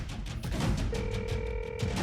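A telephone dial tone sounds as a call is placed, a steady tone lasting about a second over low background noise with no voices.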